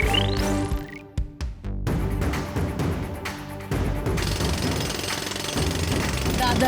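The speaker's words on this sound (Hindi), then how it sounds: "मैंने ड्रिलिंग शुरू कर दी है" Cartoon drilling effect from a robot boy's drilling suit, a loud sustained mechanical rattle with clanks and impacts, shifting in pitch with music-like tones mixed in, continuous throughout.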